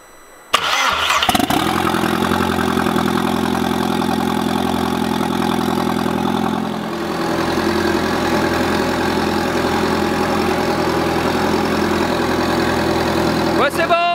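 A car engine, just after an injector repair, cranks and catches, then settles into a loud, steady rumbling idle that dips briefly before holding even.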